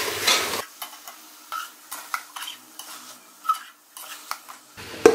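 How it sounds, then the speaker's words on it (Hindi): A spoon scrapes and knocks repeatedly against a pan while mince is stirred with pomegranate seeds and yogurt, in irregular close clatters over a faint sizzle. "अब इन तमाम चीज़ों को अच्छे से जो है वो हम मिक्स करेंगे।"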